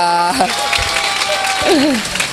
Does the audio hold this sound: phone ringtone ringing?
no